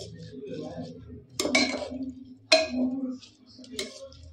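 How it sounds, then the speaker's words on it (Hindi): Rice being mixed in a cooking pot for matar pulao, with a few sharp metal spoon clinks against the pot and soft scraping in between, close up, under a woman's quiet speech. "अब चावलों को भी इसके अच्छे साथ मिक्स कर देती हूँ मैं"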